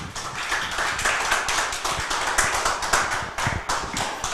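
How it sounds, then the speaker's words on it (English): Steady applause from an audience at a beauty pageant, dense clapping that holds at an even level throughout without a break. "A round of applause for them again."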